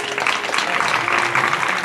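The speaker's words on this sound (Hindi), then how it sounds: "जरा ताली बजा करके" Crowd at a Bhagwat Katha religious discourse held at a cow shelter breaks into sustained, loud applause, a dense continuous clatter of many hands clapping.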